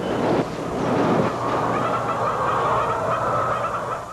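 Poultry on an egg farm, a dense continuous chorus of many hens clucking and calling together, steady and fairly loud with no talk over it.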